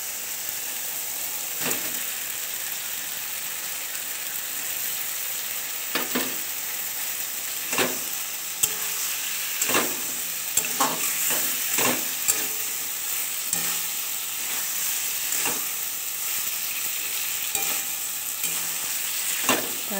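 Pigeon meat frying in a hot pan, a loud continuous sizzle close by with frequent sharp scraping strokes of a spoon stirring through the pieces, no talking.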